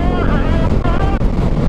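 Strong wind buffets the microphone during a motorcycle ride on a mountain road near Malico and Sagada, a loud continuous roar with engine drone underneath and a voice talking over it.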